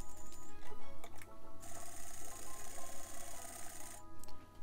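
Sewing machine stitching a cargo pocket and lining seam with right sides of fabric together, a close steady whirring hum with pulsing rhythm and a brief pause near the end, with no voices.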